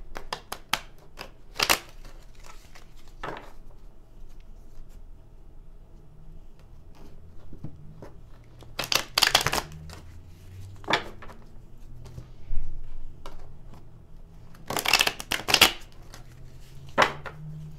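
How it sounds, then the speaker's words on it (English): Traditional tarot cards are handled and shuffled in scattered bursts, crisp riffling flurries of card noise separated by quiet pauses over a faint low hum, with no talking. "I'm gonna use some traditional tarot cards to take a look at both of your energies"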